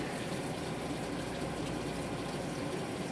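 Liquid pours and gushes steadily from a slit in a packaged block of tofu, a continuous close rushing, splashing stream at even loudness with no voices.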